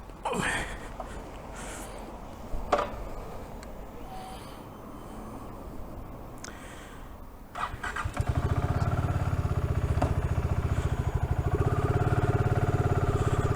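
A BSA Goldstar 650 motorcycle starts up outdoors after some quiet rustling and handling noise, then settles into a steady, fairly loud running engine note that continues to the end.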